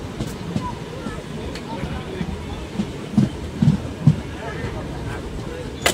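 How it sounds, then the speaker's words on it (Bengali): A train rolls into Beldanga station, a low rumbling rattle with a few louder wheel clunks near the middle, heard from onboard amid background noise. "আমাদের ট্রেন এখন ঢুকছে বেলডাঙ্গা স্টেশন"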